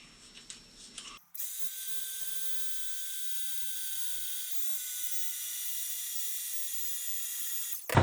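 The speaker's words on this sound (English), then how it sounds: "I'm going to do it with my handy dandy new cordless heat gun." After a short stretch of faint handling noise, a cordless heat gun switches on and blows a steady, even hiss for about six seconds while warming epoxy on a fishing rod guide, then cuts off.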